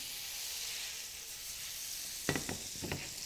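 Butter sizzles in a hot pan as a steady, soft hiss, broken near the end by a few quick scraping or stirring strokes close by.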